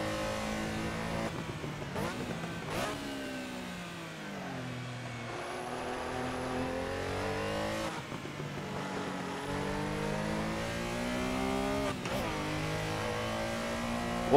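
A Porsche Carrera engine in Assetto Corsa revs hard at full throttle around Silverstone, its tone rising through the gears with several sharp shift breaks, loud and continuous with no talk.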